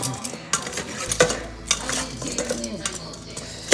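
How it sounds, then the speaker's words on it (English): Saucy chicken wings for an Asian air fryer recipe being tossed and stirred in a bowl, with close clinks, scrapes and wet stirring sounds in an uneven rhythm and no talking. "I'll mix these up and make sure every one of them gets some on it"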